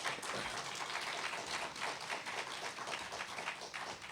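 An audience at an award lecture applauds, a faint but continuous patter of many hands clapping at once, steady throughout with no voices over it.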